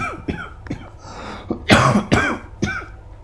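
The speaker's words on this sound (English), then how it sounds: "That's not a coronavirus cough, by the way." A single person coughs and clears their throat a few times at close range, the sharp bursts spaced irregularly with no talk around them.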